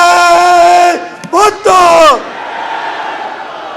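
At a rally in Sukkur, a single voice shouts a slogan and a large crowd roars back the reply in loud unison, then the noise drops to a low crowd murmur.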